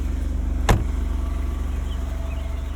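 The 3-liter twin-turbo Nettuno V6 of a 2023 Maserati Grecale Trofeo idles nearby with a steady low pulsing rumble, broken once by a brief sharp knock or click.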